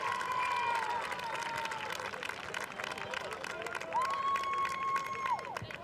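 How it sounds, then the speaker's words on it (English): A crowd at a high school boys soccer district championship game applauds and cheers for the team. The sound is faint and spread across the whole stretch, mixed with crowd murmur and whistle-like tones. "Big round of applause, folks, for your Great Crossing Warhawks."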